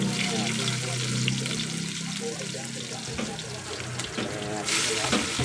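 Garlic and onion hitting hot oil in a pan for pork escabeche, a dense close sizzle with a burst of louder hissing near the end, while someone talks over it.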